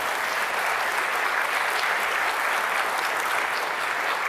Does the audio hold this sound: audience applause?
yes